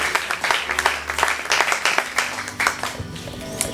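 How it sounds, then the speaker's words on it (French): A church congregation claps and applauds together in a dense, lively burst that stays steady throughout, with faint voices mixed in. "Acclamons le Seigneur."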